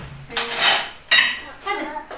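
Porcelain dishes, glassware and cutlery clatter and clink in three short bursts as they are packed up from an earthquake-damaged kitchen, close and fairly loud.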